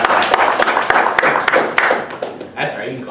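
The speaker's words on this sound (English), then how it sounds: "That's right, you can clap." A church congregation claps during a morning service, a lively spatter of sharp hand claps at close range that fades out over a few seconds, with someone talking underneath.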